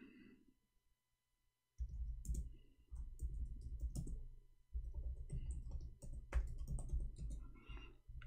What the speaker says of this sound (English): I'm typing in Arabic all this time